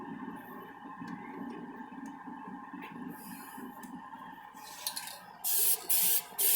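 Spray can of Dupli-Color synthetic lacquer painting the hood of a 1966 Pontiac GTO, a low background hum, then three loud, close hissing sprays near the end.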